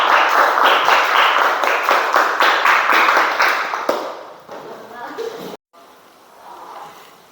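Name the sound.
applause for group 2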